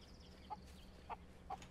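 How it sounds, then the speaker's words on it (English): Faint, clipped clucks from a chicken in the multiplayer game Hold Your Own: four short calls spaced about half a second apart over a low, steady game background. "Chicken!"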